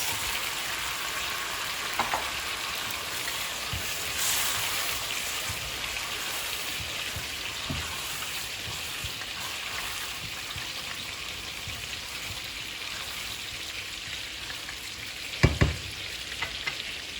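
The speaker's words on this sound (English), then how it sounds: "continuing to fry the meat" Meat frying in a pan for kufteh ghelgheli, a continuous even sizzle with scattered light stirring taps and a brief louder clatter near the end, no talking.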